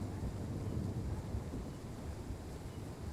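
A terrible storm rages in the Train Sim World 3 game, a steady, dense rumble of wind and low roaring noise that holds without a break and with no voices.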